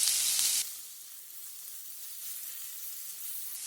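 Finely chopped onion hits hot vegetable oil with cumin seeds. A loud burst of sizzle at the start settles into a steady, softer frying hiss.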